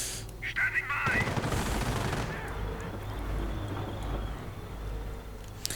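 Bursts of machine gun fire from a 2v2 real-time strategy battle, loud rattling volleys blending into explosions and rumbling combat noise.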